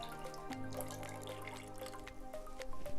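Root beer tea drips and trickles from a pressed botanicals bag into a pot, a faint, quiet patter of small drops with a light wet trickle throughout.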